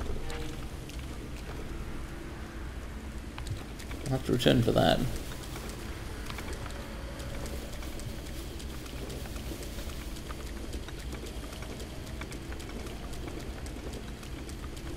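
Steady rainfall in the video game The Legend of Zelda: Breath of the Wild, a continuous soft patter under a voice speaking briefly, with a short louder rustling burst midway.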